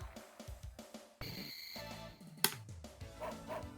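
Dog barks in the Windjammers dog distance minigame, a video game: several short yaps near the start, then bright game tones and a sharp hit, with arcade music around them.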